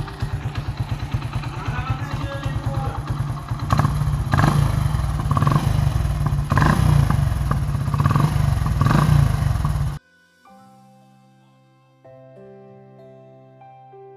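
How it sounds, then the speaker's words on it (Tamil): A motorcycle offered for sale is started and runs with a rough, loud, rapidly pulsing engine note that rises in intensity, then cuts off abruptly and gives way to a quieter tonal stretch. "இப்போ நாங்கள் இந்த பெல்லி பைக் ஒருக்கா ஸ்டார்ட் பண்ணி பார்க்க போகிறோம்"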